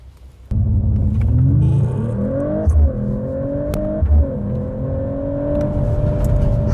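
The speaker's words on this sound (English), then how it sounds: "That was a very, very explosive launch which we achieved in these kind of wet conditions on not a very great road surface." Mercedes-AMG CLE53 launching hard in race mode on a wet, rough road: the engine note leaps up abruptly and climbs steadily through a gearshift, loud and close inside the car, with no talk.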